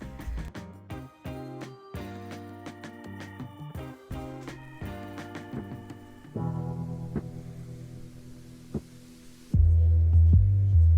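A deep booming 808 drum machine bass line pulses under a melodic electronic track, the low thumps swelling louder toward the end.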